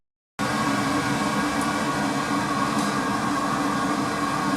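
A home heating boiler, still firing and supplying underfloor heating, gives off a steady, even mechanical hum and rush that starts abruptly and continues unchanged.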